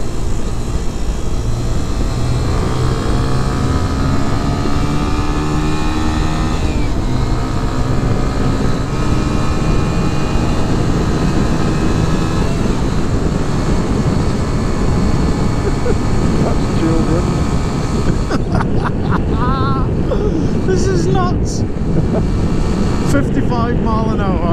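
A 125cc motorcycle, a Sinnis Apache or Honda, runs at full throttle on a long road ride, a loud, continuous engine drone mixed with heavy wind rush and shifting pitch, with talk heard over it.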